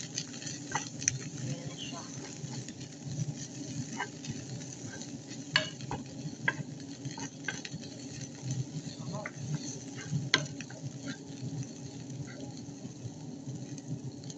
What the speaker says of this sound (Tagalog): Inaikot-naikot natin yan.